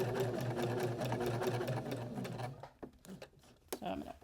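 A sewing machine runs steadily at close range for about two and a half seconds, stitching yellow thread around yellow fabric on an upcycled shirt, then stops and gives way to a few scattered handling clicks and a brief thump.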